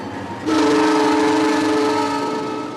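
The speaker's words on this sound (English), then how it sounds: "I have 1 whistle." A locomotive whistle sounds at close range, a single long, loud, steady tone with rich harmonics that starts abruptly and holds for over two seconds, with no voices.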